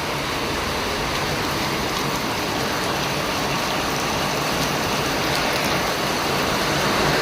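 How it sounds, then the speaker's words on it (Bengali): Heavy downpour of rain pouring down steadily as a dense, continuous broadband hiss, loud and close, with no voices over it. "মুষলধারে বৃষ্টি পড়ছে"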